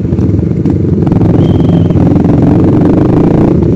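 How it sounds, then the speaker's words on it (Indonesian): A motorcycle fitted with an aftermarket racing exhaust runs loud and close, a steady rumbling drone with slight throttle changes, heard while riding in traffic on Jalan Kali Malang. "Dia knalpot racing itu suaranya kayak standar guys"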